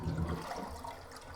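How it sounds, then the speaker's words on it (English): A toilet being repaired with a Fluidmaster kit flushes in a brief, close rush of draining water that gurgles steadily without any talking. "Let's flush it and get all the water to go out of it."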